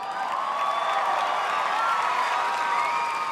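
A large crowd cheers and applauds in a steady, dense roar with scattered whoops, loud and sustained throughout without a break.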